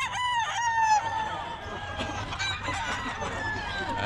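Leiper hatch roosters and chickens at a pet market in Bocaue, crowing and clucking loudly and close by, several birds overlapping with busy market noise behind them.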